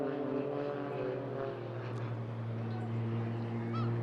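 Red Arrows jets roar through an airshow display at Eastbourne, a steady distant drone with layered engine tones, continuous and fairly loud with faint background noise.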